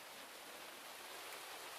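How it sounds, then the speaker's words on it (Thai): Steady, even hiss of rainy-season rain falling at a hut, faint and continuous with no pauses or voices. "ฝนตกไม่ไหวแล้วเนี่ยเนาะ"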